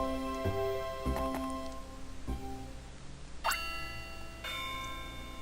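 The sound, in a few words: recess bell ringing in video game Pokemon Ranger: Shadows of Almia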